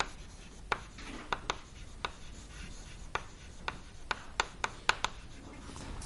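Marker or chalk writing on a board during a lecture on premixed laminar flames, heard as a scattered series of sharp taps and short rubbing strokes at close range, with no talk.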